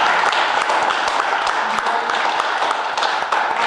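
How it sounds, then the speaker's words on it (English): Audience applause at a Homer Glen village meeting, a steady dense wash of many hands clapping at even loudness throughout, with no voices standing out. "I would just like to give her a round of applause for all of her efforts"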